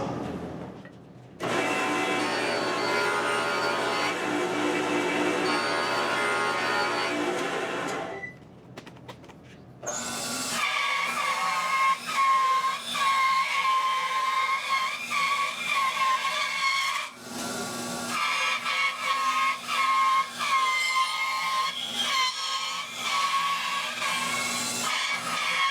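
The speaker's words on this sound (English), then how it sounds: "I'm going to run my piece of wood that will eventually become binding over my jointer and get one smooth side." A jointer planes the edge of a rough flame maple binding strip, a loud, steady whirring cut in two long passes separated by a brief pause.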